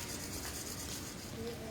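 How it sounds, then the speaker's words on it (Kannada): Hands rub together vigorously during a group yoga session, a brief, continuous dry swishing friction heard close up. "ನಿಧಾನ ಎರಡೂ ಕೈಗಳ ಮೇಲ್ಗಡೆ ತಗೊಂಡು ಕೈಗಳನ್ನು ಉಜ್ಜಿರಿ"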